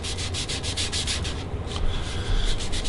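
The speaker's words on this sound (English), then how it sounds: "we're going to just do a hard, sort of dirty edge that we'll sand to clean it up" Sandpaper rubs along the edge of wood coated in gel stain, making steady, rhythmic back-and-forth strokes close up with no pauses.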